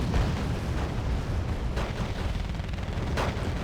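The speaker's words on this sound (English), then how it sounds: "Bombs away." Bombs explode in the Wargame: Red Dragon Korean War campaign, a continuous roaring rumble of blasts with several sharper impact bursts breaking through, loud and dense throughout.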